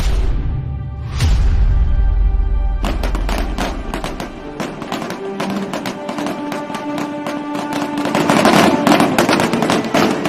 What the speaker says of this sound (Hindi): पटाखे कौन फोड़ रहा है?